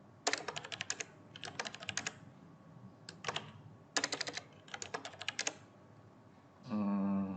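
Quick bursts of typing on a computer keyboard in a terminal, with close, crisp clicking in short runs and pauses, followed by a brief tonal hum at the end.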